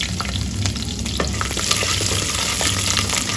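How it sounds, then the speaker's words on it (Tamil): Garlic cloves and curry leaves sauté in hot oil for a Tamil pirandai kuzhambu, a steady crackling sizzle with scraping stirs of a spoon through the pan, close and fairly loud with no talking. "கருவேப்பிலை சேர்த்து பத்து பல் பூண்டு சேர்த்து இதை நல்லா வதக்கிக்கலாம் எண்ணெயில் நல்லா வதங்கணும்"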